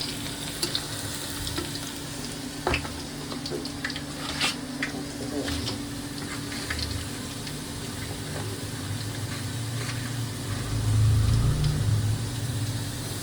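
Onions already fried in a pan, with a hand-mixed blend of ground coriander and cumin going in, sizzle and crackle steadily for a spicy pulao, with occasional stirring scrapes and a louder burst of frying near the end.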